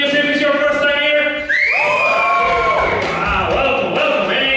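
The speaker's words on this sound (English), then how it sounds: "Give me a cheer if it's your first time here." A comedy club audience at a live stand-up show lets out a burst of cheering and whooping, loud and close, with mixed shouts overlapping and rising over a moment of crowd noise.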